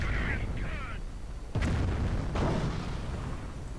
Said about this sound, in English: Mine going off, they're killing a few Grenadiers.